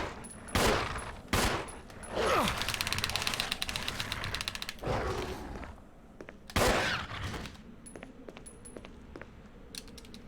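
Gunfire in the video game Resident Evil Zero: several sharp, loud shots spaced irregularly, with a rapid mechanical rattle and clicks between them and quieter stretches after.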